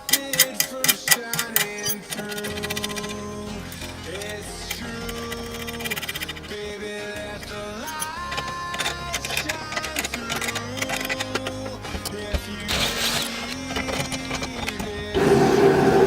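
Ratcheting wrench spins 12mm bolts off a BMW E36 rear subframe, a rapid clicking tick that runs in bursts and pauses, with metallic clanks near the end.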